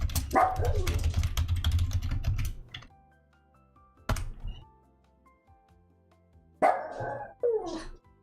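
A pet dog barks indoors in a few separate loud bursts with pauses between, following a stretch of close computer keyboard typing; no voices are heard.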